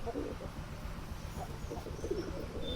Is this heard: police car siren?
no